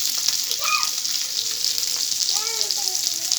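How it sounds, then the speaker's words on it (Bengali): Fish sizzles steadily in hot oil in a home kitchen as a dish with potatoes is cooked, a constant bright hiss broken by a few brief tonal squeaks and faint background voices. "এই যে আমি মাছগুলো লাল লাল করে ভেজে নিচ্ছি।"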